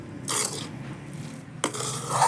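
A spoon scrapes and clinks against a pan while a potato mixture for pav vada is mixed with the gas turned off, two close bursts of metallic scraping separated by a short pause.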